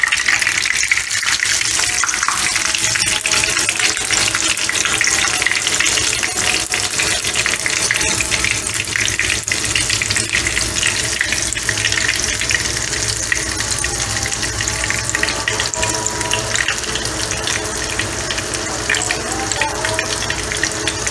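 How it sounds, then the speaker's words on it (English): Fish frying in hot oil with curry leaves, a steady, dense crackling sizzle that runs without a break at close range, with no voices over it. "So I shall fry this on either sides for about 3 minutes on each side"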